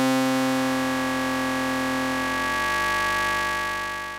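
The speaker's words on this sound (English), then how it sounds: "so we're getting that same dissonant inharmonic tone, but you'll notice that the original signal is completely removed" A ring modulation effect on the Arturia Moog Modular V software synthesizer produces a steady, dissonant, inharmonic buzzing drone with a harsh metallic edge, held loud and continuous, shifting slightly in pitch near the end before fading a little.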